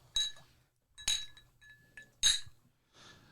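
Several glasses clink together in a whiskey toast, three bright distinct chinks spaced about a second apart, close and fairly loud, with a softer rustle at the end.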